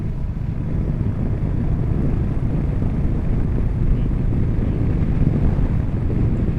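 Steady, loud wind roar buffets the microphone while riding a motorcycle along winding roads in Dordogne, a continuous low rushing noise with no breaks.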